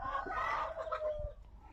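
Roosters and hens on an organic egg-laying chicken farm, a loud cluck and crowing-like calls up close at the start, then softer clucking and farm background as the calls fade.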